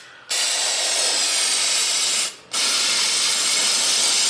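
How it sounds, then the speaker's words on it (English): Brake cleaner sprayed onto car parts during an oil change on a 2003 Honda Civic LX, a loud, steady aerosol hiss in two long bursts with a brief pause between them, close by and with no talk. "Brake cleaner. It's good for cleaning parts."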